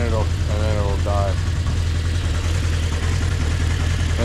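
A 1980 Honda CB650 motorcycle engine idles cold, a steady low throbbing close by that runs on unbroken with a faint rising note while it leans out, and a voice speaks briefly near the start.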